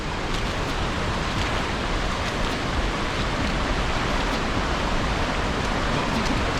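La Fortuna waterfall in Costa Rica pours into a swimming hole, a steady, dense roar of rushing water that holds evenly throughout, with no voices.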